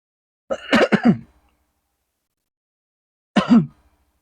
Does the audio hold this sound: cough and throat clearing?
yes